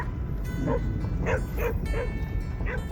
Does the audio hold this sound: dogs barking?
yes